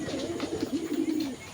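A pigeon coos once at close range, a soft, low rolling call lasting just over a second.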